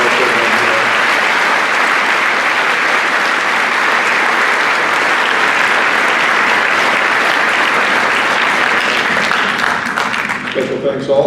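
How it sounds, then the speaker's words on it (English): Sustained loud applause from an audience at a school Veterans Day program fills the whole stretch, a thick wash of many hands clapping that thins toward the end as voices begin to emerge. "A round of applause for those two for enlightening our program."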